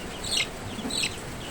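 A young Kelso rooster, about 24 days old, gives two short soft clucks a moment apart, close by and fairly faint, with no talking.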